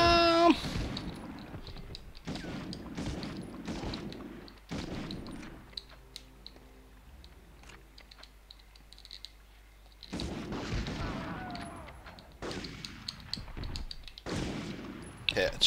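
Gunfire from the Medal of Honor video game: bursts of sharp shots and clattering impacts in the opening seconds and again near the end, with a quieter stretch between and someone talking over the action.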